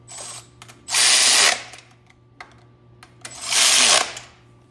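Starter bolts on a GM LS engine with an Atlas 4200 adapter being tightened with a power ratchet: two loud, close whirring bursts of about a second each, separated by quiet clicks and handling noise.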